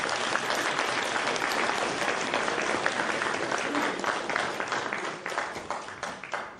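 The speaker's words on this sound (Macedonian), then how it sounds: "пак ми треба уште еден аплауз од вас." Sustained, dense audience applause fills a hall at an evening of aphorism readings in Kočani in 2014. The clapping is loud and even throughout, with no voices on top.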